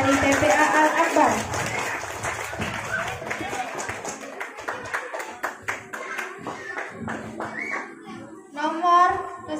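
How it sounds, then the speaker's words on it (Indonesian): An audience at a children's TPA Quran recitation event gives scattered, uneven clapping for a young participant. A voice and other talk are heard around the claps. "Beri tepuk tangan yang meriah untuk adik Yahya dari TPA Al-Akbar"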